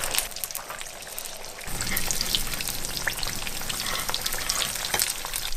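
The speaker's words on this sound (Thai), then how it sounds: "เสร็จแล้วเราก็จะมาทอดปลาสลิดกันนะคะ" Gourami fish sizzles and crackles in hot oil in a large pan, a steady loud frying hiss that swells after a quieter start, with scattered pops.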